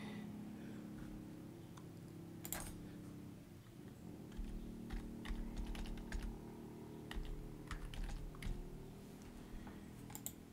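Someone types a password on a computer keyboard in a quiet room, a soft run of closely spaced key clicks over faint background hum.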